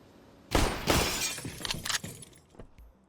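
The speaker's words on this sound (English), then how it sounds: "Ethan destroyed upper windows at the same time, while Breeze destroyed his window down B bomb site" In the game CS:GO, windows are shot out in a loud burst of shattering glass, followed by several smaller crashes and falling shards that trail off over a couple of seconds.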